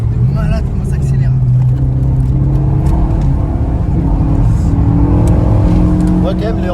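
A 2015 Renault Megane 3 RS phase 3 with stage 1 tuning accelerates hard on a track, its engine note climbing steadily and loudly from inside the cabin with brief voices over it.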